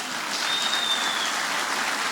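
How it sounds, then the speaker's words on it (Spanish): Church congregation applauding, a loud, continuous, even roar of many hands clapping with a faint cheer or whistle briefly rising above it. "sencillamente Él es digno de un gran aplauso"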